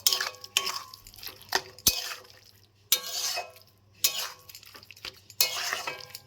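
Mashed banana stem paste, salted and with its water, stirred in a pan over high heat, with repeated spoon scrapes and clinks against the metal in bursts between short quiet gaps.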